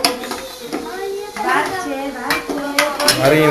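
Pots and cutlery clatter and scrape while cooking, with steady metallic clinks and stirring. Someone talks and sings over the kitchen noise throughout.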